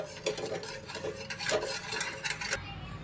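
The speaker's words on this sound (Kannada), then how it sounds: "ಈ ಟೊಮೊಟೊನ ನೀಟಾಗಿ ಸ್ಮ್ಯಾಶ್ ಮಾಡ್ಕೊತಾ ಇದ್ದೀನಿ" Cooked tomatoes being mashed in a pot for rasam give soft, repeated squelching scrapes and taps of a utensil against the pot, close and fairly quiet.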